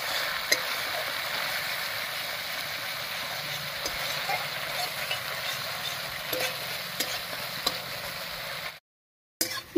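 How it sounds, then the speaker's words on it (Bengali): Poppy seed and sesame paste frying with spices in a pan for dudh potol, a steady low sizzle with occasional stirring scrapes, no talking, cutting out briefly near the end. "তিল আর পোস্ত বাটা দিয়েও মশলার সঙ্গে কষিয়ে নিয়েছি।"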